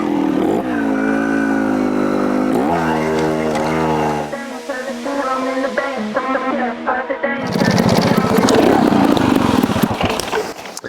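Beta 2025 250 Evo trials motorcycle revs in short rising bursts, then idles and blips unevenly before a rougher, noisier stretch of riding, fairly close and moderately loud.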